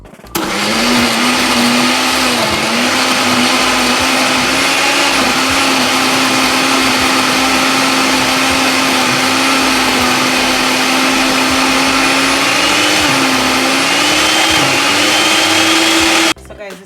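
A blender whirs continuously at full power, churning green plantain into a Jamaican porridge mix, a loud, steady motor roar with slight pitch shifts, running alone until it cuts off at the end.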